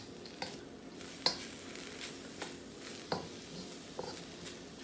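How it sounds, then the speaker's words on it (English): Soft sizzle of green onions frying in a pan for lobster tail and bacon fried rice, with several sharp stirring scrapes and clicks of a utensil spaced irregularly, quiet and close, no speech. "we're going to let this cook up a little bit"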